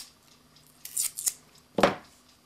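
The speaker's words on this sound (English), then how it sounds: "first thing we do, tear off some masking tape" A strip of masking tape is torn off for a clock mainspring repair, making a few short, close crackling rips, a quick pair followed by a louder tear, in a quiet room.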